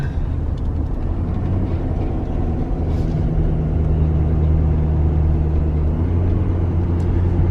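A 2020 Ford F350 Powerstroke diesel pickup hauling 22,000 lbs, with a loud, steady low engine drone and road rumble at partial throttle, holding continuously with no talking.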